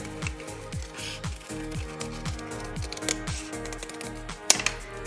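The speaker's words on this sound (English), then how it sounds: "I've folded the piece of card, and then I will cut along this line" Scissors cutting along a line on a folded piece of card, a quiet run of repeated crisp snips and crunches in a steady rhythm, close up, with a sharper click near the end.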